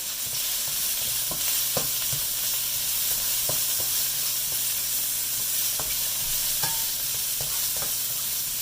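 Onion and hot pepper stir-frying in a hot pan for drunken noodles, a steady sizzle under frequent scraping and clanking of the utensil, close, with no talk.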